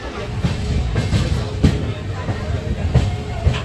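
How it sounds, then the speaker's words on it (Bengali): Kulik Express train running fast along the main line, with a steady loud rumble and recurring wheel clatter over rail joints throughout. "আর ট্রেন খুব ভালো যাচ্ছে।"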